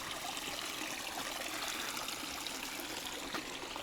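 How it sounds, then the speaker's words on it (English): Small upper stream in Royal National Park, water trickling and burbling steadily at close range, soft and continuous with no voices. "So that's perhaps one piece of an upper stream here."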